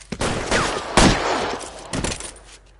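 Gunfire bursts in a police shootout in the video game LA Noire, loud and close. Several sharp volleys land in quick succession, with a distinct heavy blast in the middle and another cluster near the end.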